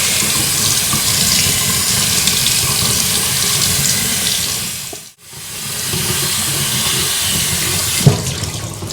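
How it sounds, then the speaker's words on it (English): Tap water runs steadily and close up onto an ITG foam air filter as it is rinsed at a sink, a continuous splashing hiss with a brief break midway and a small knock near the end. "that's holding quite a lot of water now, so I'm going to let it rinse out"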